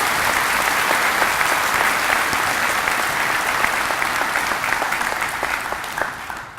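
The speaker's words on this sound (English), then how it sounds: "So let's have another nice round of applause for all of those recipients." Dense, sustained applause from a high school graduation ceremony crowd honoring award recipients, many hands clapping at an even level before gradually thinning at the end.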